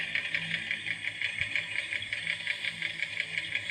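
A motorbike engine idles in a Bengali video game, a steady close-up mechanical chugging with a faint rattle that holds evenly throughout with no talk over it.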